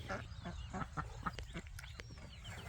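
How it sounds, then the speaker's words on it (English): Farm ducks quack in a quick series of short, nasal calls, about six in a row, fairly close but not loud, with a faint outdoor background behind them. "Dirty ducks."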